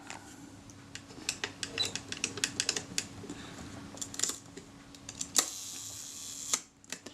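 The serviced shutter of a pre-war Zeiss Ikon Super Ikonta folding camera fires repeatedly in quick mechanical clicks, close and crisp, with several separate snaps spaced unevenly over a quiet background.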